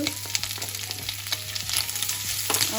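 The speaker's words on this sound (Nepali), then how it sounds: "फेरि यसलाई एकछिन भुटिराख्नुपर्छ चलाउँदै चलाउँदै" Chicken gizzards frying with onion, ginger and garlic while being stirred in a pan: a steady close hiss of sizzling broken by repeated scraping and clacking strokes of the spoon.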